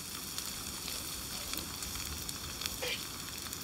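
Steady sizzling of meat cooking over a campfire in the survival game Sons of the Forest, a continuous crackling hiss with small pops and no voices.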